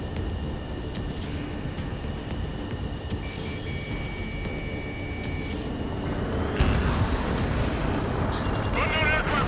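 Jet fighter engines roar steadily in Ace Combat 7, a continuous airborne rumble that swells louder near the end, with radio chatter voices running over it.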